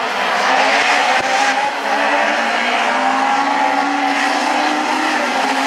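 Loud, continuous engine wail and tyre scrub from a Super 1600 rallycross car spinning out on a race circuit, the sound sustained and dense with a brief squeal-like sweep near the start.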